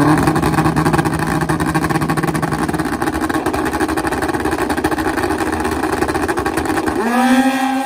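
Top Gas drag racing motorcycles, nitrous-fed drag bikes and street-tire bikes, roar at full throttle down the strip in one loud sustained engine howl that drops away near the end, with no talk over it.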